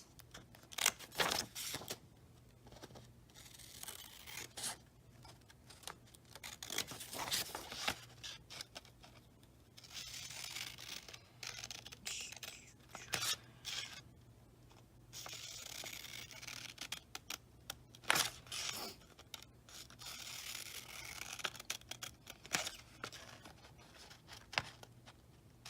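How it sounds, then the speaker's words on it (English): Paper being cut with scissors along dotted lines, heard as quiet, irregular snips and rustles close by, with no talking. "You're going to cut along all those dotted lines."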